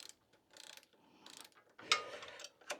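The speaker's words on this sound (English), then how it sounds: "Tighten the bolt back up." A ratchet wrench clicks in quick, close bursts while tightening a bolt on a pannier rail of a Triumph Bonneville T120 motorcycle, with brief pauses and a sharper metallic tick between strokes.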